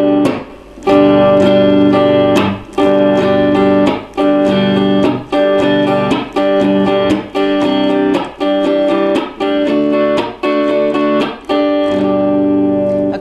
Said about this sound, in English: So this strumming pattern is a downstroke, an upstroke, a chop